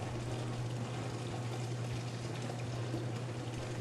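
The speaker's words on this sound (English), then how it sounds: "Drain all the rinse water from the door spout." Rinse water drains steadily from a freezer door spout with an even, continuous rushing pour and a low mechanical hum underneath, faint and uninterrupted.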